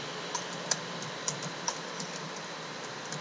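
Sparse, light keystrokes on a computer keyboard as text is entered in Photoshop, with a handful of soft, separate clicks over quiet room noise and no speech.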